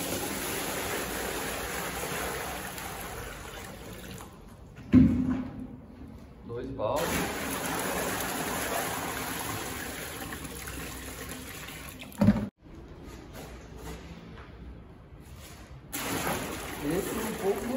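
Water pours steadily into a bucket for mixing plaster of Paris with a volume-boosting additive, a continuous splashing rush that breaks off twice briefly, with a voice talking in Portuguese over part of it.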